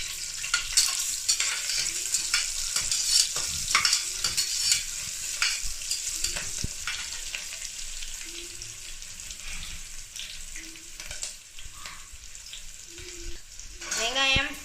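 Green chillies and ginger-garlic paste frying in a pan for tomato rice, with a steady bright sizzle throughout and soft stirring scrapes and taps, plus a brief voice near the end.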